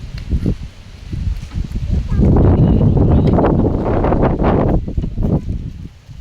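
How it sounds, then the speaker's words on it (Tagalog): Gusts of wind buffet the microphone, rising into a strong sustained rush for a few seconds before easing off. "Sarap ng hangin"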